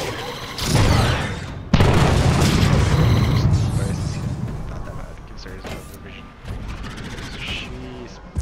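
Heavy booming blasts from the video game Atlas Reactor, a sharp loud explosion followed by a rumbling tail and scattered smaller bangs.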